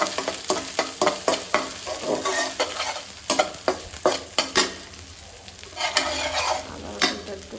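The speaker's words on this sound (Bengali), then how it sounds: "আদা রসুনটা একটু কষাই" Ginger garlic paste with green chillies sautéing in hot oil for a taro and hilsa fish curry, with loud close sizzling and rapid rhythmic scraping strokes of a spatula against the pan, no voices.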